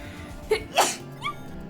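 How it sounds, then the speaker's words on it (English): A single close, sharp sneeze with a short intake before it and a faint squeak after, set against a quiet room. "I'm gonna sneeze again."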